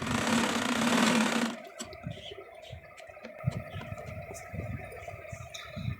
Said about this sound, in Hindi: दूसरी तरफ भी शोल्डर की सिलाई हम लगा लेंगे।